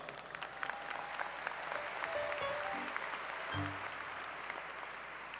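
Large audience applauding at a university baccalaureate ceremony in a packed arena, steady dense clapping that holds for several seconds with a slight swell near the end, no speech over it.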